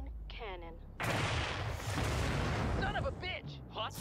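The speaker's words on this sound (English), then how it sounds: "Firing main cannon" A main cannon fires in the Red vs. Blue animated series, a sudden loud blast that roars into a sustained rumbling burst, with people talking before and after it.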